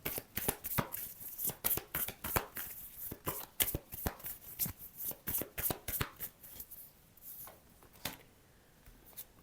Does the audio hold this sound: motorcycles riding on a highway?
no